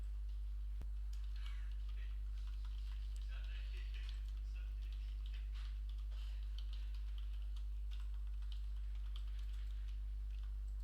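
Light typing on a computer keyboard, soft scattered key clicks over a strong steady low electrical hum, faint and close.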